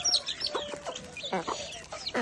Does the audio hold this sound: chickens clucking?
yes